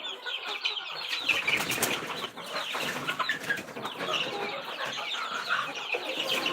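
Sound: chickens clucking

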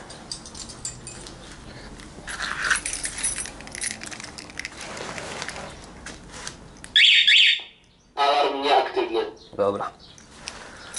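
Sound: motorcycle alarm being disarmed

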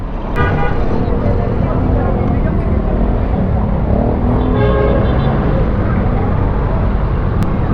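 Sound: road traffic during rush hour

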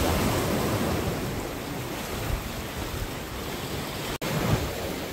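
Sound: sea waves breaking on the shore

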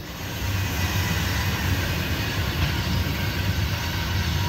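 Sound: loaded KCS grain freight train led by ES44AC locomotive

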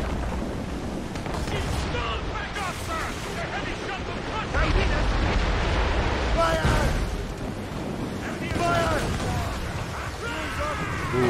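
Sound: mortar fire sinking ships in Assassin's Creed Rogue video game

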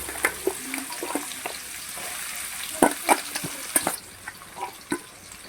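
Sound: chopped onions added to hot oil, frying

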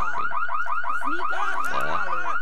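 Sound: burglar alarm going off in The Sims 3 video game

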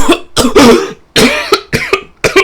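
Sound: cough

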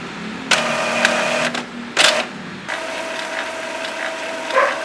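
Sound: inkjet printer running head cleaning

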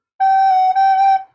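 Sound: whistle sound in recorder teaching resource

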